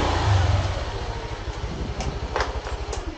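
A motorcycle engine idles and putters close by at a hiking trailhead, a low rumbling pulse that pushes harder at first and then settles, with a few brief scuffs over it and no speech.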